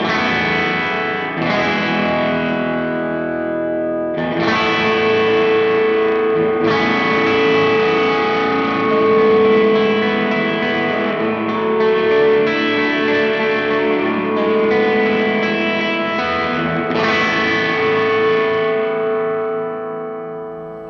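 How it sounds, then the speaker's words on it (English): Sustained guitar chords wash through an Echo Fix spring reverb that breaks up into a gritty, distorted tail, long ringing notes swelling and fading. "There's almost a little bit of distortion in the reverb there."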